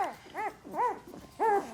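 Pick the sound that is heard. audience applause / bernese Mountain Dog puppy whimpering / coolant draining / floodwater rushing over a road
bernese Mountain Dog puppy whimpering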